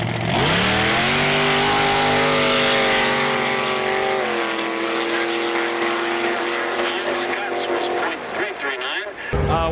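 An ice drag racing Yukon on studded tires launches with a loud, close engine roar, its pitch climbing steeply then holding at a high strained rev before cutting off abruptly near the end.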